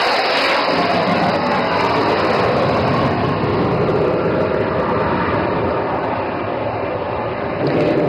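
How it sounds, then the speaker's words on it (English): An Indian Air Force Sukhoi Su-30 fighter jet performs an overshoot at an air show in Dibrugarh, a loud, steady roaring jet engine rumble sustained throughout, close and powerful. "der Bhadoria with Flight Lieutenant Benipal, is now coming in for an overshoot."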